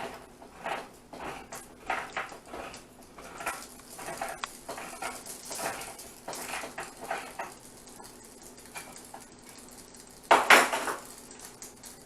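A can of tomato sauce is cranked open with a hand can opener in a home kitchen, giving a series of small scraping clicks and metallic taps, ending with a louder clatter as the lid comes free.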